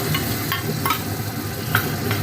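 Whisked sour yogurt hits a frying spice paste in a pan for a fish kalia, producing a loud continuous sizzle with scraping stirs and light clinks, no voices.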